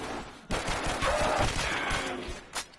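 A sentry gun fires in rapid bursts during a custom zombies video game on the Gridlock map, loud and close, with sustained automatic gunfire that briefly stops and then starts again.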